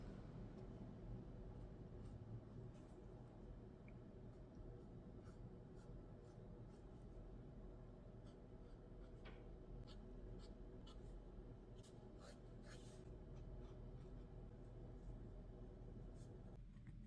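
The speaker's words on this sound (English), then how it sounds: "I'm just gonna outline my pumpkins like I would do with my regular artworks, just to see how they compare with my Pitt Artist pens" Pitt Artist pens outlining small pumpkin drawings on paper make faint, continuous scratchy strokes in a very quiet room.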